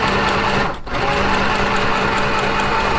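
A sewing machine runs steadily, stitching fabric in a continuous mechanical whir that pauses briefly near the start before resuming, loud and close throughout.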